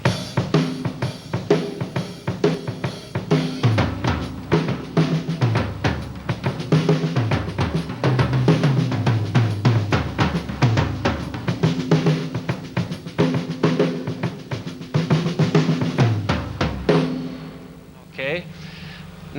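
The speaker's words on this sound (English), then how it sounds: "Now I'll play the rock shuffle, and I'll come out of it into the, let's call it a halftime shuffle" Drum kit playing a steady rock shuffle that shifts into a looser halftime shuffle, loud and continuous with snare, kick and hi-hat, ending abruptly with a brief quieter tail.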